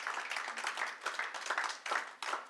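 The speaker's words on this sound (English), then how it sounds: "Let's give them a round of applause for coming out to vote." A crowd of early voters at a county Vote Early Day event applauds, a steady wash of many hands clapping at moderate loudness, fairly close, with no talk over it.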